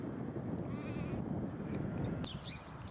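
Sheep and lambs bleating in a field near Rye beside the military canal, several soft calls at middle distance over steady outdoor wind and ambient noise.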